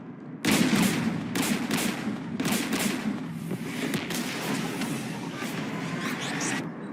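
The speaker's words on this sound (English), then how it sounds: "We're taking fire." Sustained gunfire in Mass Effect 3 on Rannoch near a Geth jamming tower and anti-aircraft guns: rapid bursts and repeated shots begin abruptly and continue densely throughout, loud and close, with no talk.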